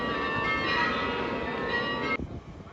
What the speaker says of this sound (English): From behind Rubens, we can hear the bells of the Cathedral of Our Lady, Antwerp's largest church.